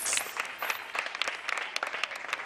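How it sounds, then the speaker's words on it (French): A small group at a children's outing claps for a child, a brief, fairly faint patter of scattered individual handclaps at an uneven rhythm. "Applaudissez pour Bisoul"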